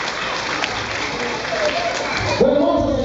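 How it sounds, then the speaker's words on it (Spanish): Audience clapping at a carnival dance celebration, a steady crowd patter that swells briefly before a speaking voice cuts in over it near the end. "un fuerte aplauso, que se escuche"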